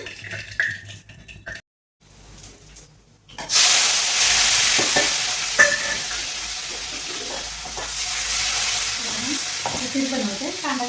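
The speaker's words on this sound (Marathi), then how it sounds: "फक्त टोमॅटो जिरं मोहरी कढीपत्ता एवढंच टाकलं आणि डाळ घालून फोडणीला" Dal tipped into a hot tempering of cumin, mustard seeds, curry leaves and tomato, setting off a loud, steady sizzle and hiss after a brief pause, with a few spoon clinks and scrapes over it.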